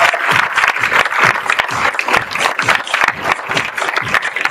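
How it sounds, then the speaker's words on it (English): An audience claps steadily for a speaker at an expo evening event, a dense, even wash of many hands that carries on throughout without a pause. "another round of applause for Dennis, please"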